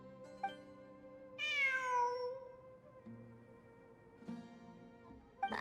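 A single drawn-out, falling cat meow sounds in a video game, clear and fairly close above a quiet ambient musical backdrop, with a few soft tones before and after.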